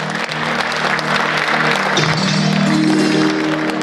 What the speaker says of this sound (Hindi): बहुत जोरदार तालियों से हमारे चेयरमैन श्री का स्वागत करें